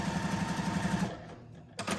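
Sewing machine stitching a seam in quilting fabric, a quiet rapid rhythmic needle chatter that slows and stops partway through, followed by a short burst of handling noise.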